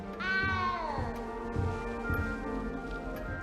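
A single drawn-out cat meow in Hogwarts Legacy rises and then slides downward over a dense backdrop of game ambience and low music.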